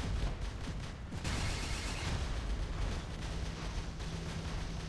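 Robot weapons firing in War Robots gameplay, a dense continuous roar of blasts and rumbling impacts, loud and steady across the whole stretch with no distinct gaps.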